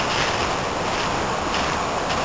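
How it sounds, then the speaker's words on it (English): Rushing water from a waterfall beside a rocky trail, a continuous broad roar that stays even and fairly loud throughout, with no voices. "you can hear the water."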